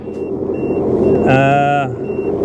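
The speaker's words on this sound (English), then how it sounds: "It's beeping on the Garmin." A few short, thin electronic pips followed by one louder, buzzy half-second tone from a Garmin GPS bike computer's hazard warning, over steady wind and road rumble while riding.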